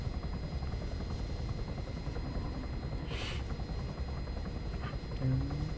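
Helicopter in the video game Arma 3 flying steadily during a medical evacuation, a constant whirring rotor and engine drone holding at even loudness throughout, with no talk.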